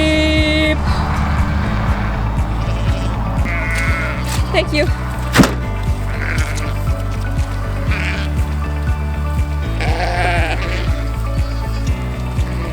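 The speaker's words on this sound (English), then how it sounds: "Come on, sheep!" Sheep on a farm bleat repeatedly, several loud nearby calls spread across the scene over a rhythmic low mechanical thumping, with brief talking mixed in.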